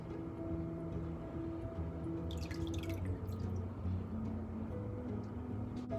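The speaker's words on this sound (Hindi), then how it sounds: "आप देख सकते हैं कि इसमें से पानी निकल रहा है, इतनी स्पॉन्जी बनी है ये" Water seeping and dripping from freshly made, spongy rasmalai patties: faint, close-up drips and trickling over a quiet kitchen background.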